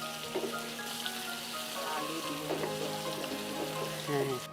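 Food frying with salt in a pan at home cooking, a continuous hiss of sizzling oil with occasional stirring scrapes and spatters, steady and close throughout.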